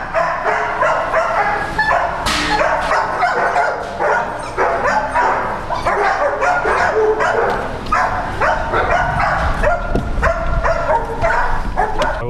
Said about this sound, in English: I gotta stop at the dog kennel real quick.